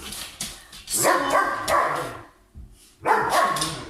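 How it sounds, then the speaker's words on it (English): A dog barks nearby, a short run of barks, a pause, then another quick burst of barking. "Sorry about the dogs."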